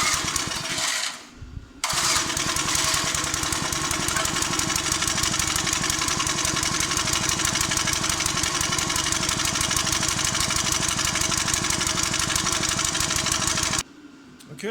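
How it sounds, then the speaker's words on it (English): Small engine on an old Clarke log splitter, running on its old carburetor, cuts out briefly then restarts and runs steadily with a close, even putter until it stops near the end. "Okay, well, it does run with the old carburetor."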